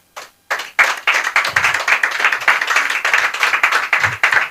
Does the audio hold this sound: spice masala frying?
no